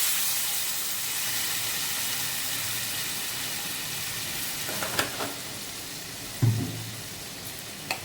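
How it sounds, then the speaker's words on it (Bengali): Potatoes and spice masala for an egg curry hiss and steam in a pan as water goes in, a steady broad sizzle with a few brief spatters and clinks near the end, no voices. "জল দিয়ে দিচ্ছি।"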